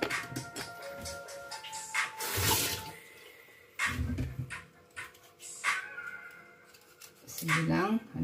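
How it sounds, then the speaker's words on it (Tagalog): Potatoes rinsed under running tap water in a kitchen sink, intermittent splashing and trickling with handling noises, quiet and close, with someone talking over it. "Ugasan lang natin ha, para patatas kasi marumi."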